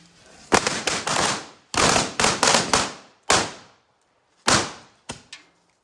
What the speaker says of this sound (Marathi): गाईज फटाके फोडायला घेतले